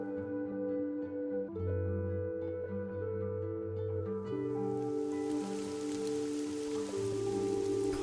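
Steady rain falls in the video game Fall of Porcupine, a continuous soft patter that runs without a break throughout and sits under a looping background music track.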